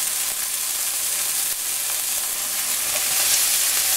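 Green peas, red chili flakes and diced potatoes fry in a pan with a constant close sizzling hiss, a few small pops breaking through, no speech.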